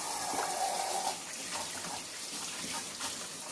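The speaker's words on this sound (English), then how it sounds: "let me wash my hands real quick" Tap water running steadily into a sink while hands are washed, a continuous close splashing rush with slight shifts as the hands move through the stream.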